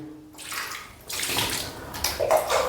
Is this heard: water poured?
yes